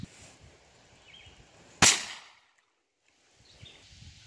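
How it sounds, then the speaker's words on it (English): A single sharp, loud report from a Ruger Wrangler revolver firing a shotshell at 3 yards. The blast stands out against quiet outdoor ambience and fades quickly. "So next we'll shoot it at 3 yards."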